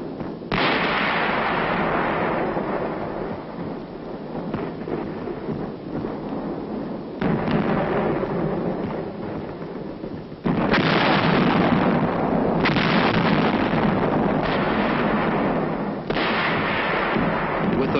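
Heavy mortar company firing a continuous bombardment of 4.2 shells on Hill 1179 in Korea as a creeping barrage, a loud, sustained rumbling roar of blasts with sharp new impacts every few seconds and no talk.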